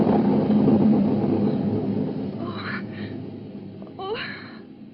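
A heavy thunder rumble in a radio drama rolls loudly at first and slowly fades, followed by a gasping, breathy voice reacting.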